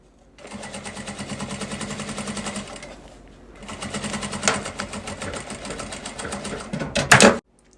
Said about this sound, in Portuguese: vou passar aqui uma costurinha